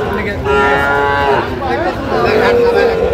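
Sahiwal bulls moo loudly and close at a crowded cattle market in Feni, Bangladesh, with two long drawn-out calls over a bustling background murmur.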